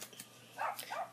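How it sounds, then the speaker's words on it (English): A dog outside barks faintly in the distance, two short muffled barks in a quiet room. "Excuse the barking in the background."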